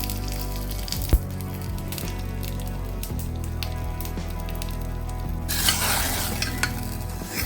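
Cumin and grated ginger sizzle in hot oil for a tadka while being stirred, a continuous crackling fry with scraping stir strokes and a brighter burst of sizzle near the end.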